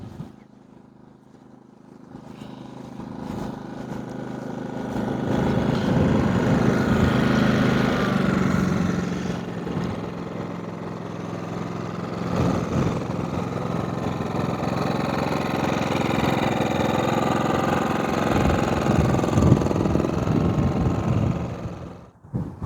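A GENMAX GM5500i inverter generator engine runs, starting quietly and rising into a steady, loud, close mechanical drone with a constant hum that holds for about twenty seconds before dropping off.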